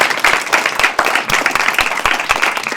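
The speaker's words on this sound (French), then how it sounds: "Oui, applaudissez-vous." A live audience at a podcast taping claps loudly, dense and fairly near, with some individual claps standing out over the steady applause.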